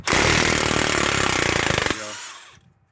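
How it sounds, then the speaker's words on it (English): A DeWalt power tool, likely an impact driver, rattles loudly and close on vehicle brake bolts for about two seconds, then winds down and stops. "we got to get the DeWalt for this one"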